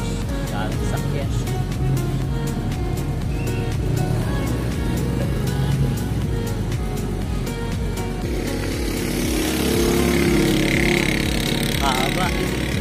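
Continuous engine noise of busy road traffic in Dagupan, heard by a cyclist on a bikepacking trip: a dense motor drone with passing vehicles, fairly loud and unbroken, with talk underneath.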